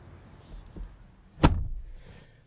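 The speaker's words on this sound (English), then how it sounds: "Doors feel pretty nice when you shut them." A door on a 2025 Nissan Armada Pro-4X SUV shuts with one solid thump that lands near the middle. It is followed by a short fading rattle, with quiet handling noise before it.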